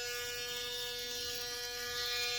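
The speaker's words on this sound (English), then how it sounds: "So it's a pretty smooth shave." A Panasonic ARC5 electric shaver hums steadily and close throughout while shaving, a continuous buzzing drone with a bright, even tone and no pauses.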